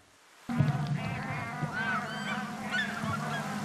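A flock of wild geese or ducks calling with honks in flight at dusk over Dibru Saikhowa in Assam, India, a dense continuous chorus of overlapping calls that starts abruptly and stays fairly loud.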